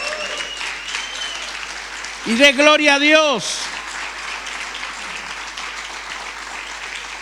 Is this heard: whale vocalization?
no